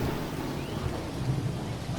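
Thunder rolls through a rainy storm in the Dinkum game world, a steady low rumble layered with the hiss of falling rain, moderately loud and without speech.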